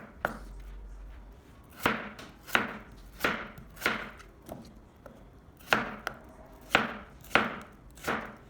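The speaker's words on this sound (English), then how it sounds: "Then cut into evenly sized sticks." A knife cuts unpeeled daikon radish into sticks on a board, giving about ten crisp, sharp chops at an uneven but steady pace, close and clear with no talk.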